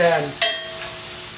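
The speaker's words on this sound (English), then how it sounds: "I'm going to add a little bit of garlic here. I don't want to add too much. I don't want to cook the garlic too long." Garlic cooking in a hot pan gives a brief, close sizzle with a quick stirring scrape, fading into a steady hiss.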